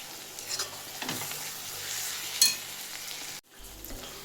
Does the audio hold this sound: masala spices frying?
yes